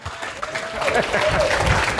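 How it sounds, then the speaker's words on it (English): A conference audience applauds as a speaker is welcomed on stage, clapping that swells quickly and holds steady, with voices calling out and some talk mixed in. "give a huge round of applause to Mr. Jason Hartman."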